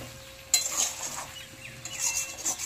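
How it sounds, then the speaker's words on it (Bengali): Mixed vegetables with pumpkin shoots and turmeric are stirred in a pan, giving a few scraping spoon strokes against the metal with faint sizzling underneath, close and moderately quiet. "এবার এটা ভালো করে নেড়ে নেব।"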